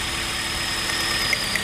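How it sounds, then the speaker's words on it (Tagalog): A car engine idles roughly while the ignition coil of cylinder 2 is tested for a misfire, giving a steady, loud, dense rumble with a few faint clicks near the end. "nanginig ang makina, sabihin gumagana"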